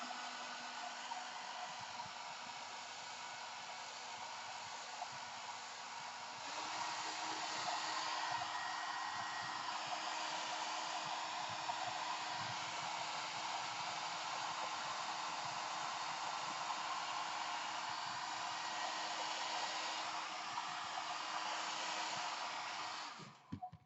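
A heat gun blowing hot air over fabric in a crafting setting, a steady, continuous whooshing roar that steps up in strength partway through and runs alone for over twenty seconds before cutting off.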